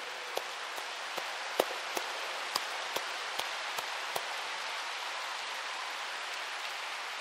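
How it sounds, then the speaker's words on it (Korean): Steady, even clapping from a large audience fills the space at a women's assembly inauguration, a dense wash of hands with a few sharper claps standing out near the start. "소리가 울려 펴지는 박수인데"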